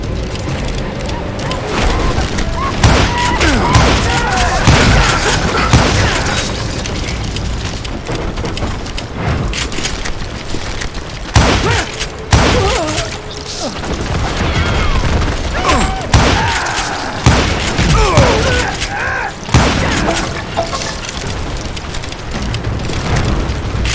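A fierce Wild West gunfight in Call of Juarez Gunslinger: repeated loud gunshots and rapid volleys crack close by in irregular bursts, with echoing booms and voices breaking in now and then.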